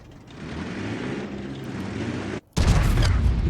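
A tank cannon fires in World of Tanks, a sudden loud boom that cuts in after a brief hush and follows a low engine rumble.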